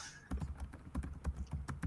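Typing on a computer keyboard: a quick run of crisp key clicks and taps in an uneven rhythm, close and fairly quiet, with no talking over it.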